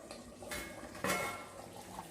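The lid of a cooking pot of potato and pea gravy being lifted, two brief metallic clanks close by over a faint background hiss, with no voice.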